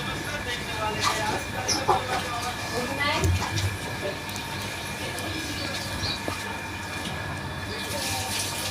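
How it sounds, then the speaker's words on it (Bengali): A train rolls past a roadside spot outdoors, giving a steady broad rumble and clatter that holds through the whole stretch at moderate distance, with brief voices and faint background sounds over it. "সেইখানেই যে দেখো ট্রেন যাচ্ছে।"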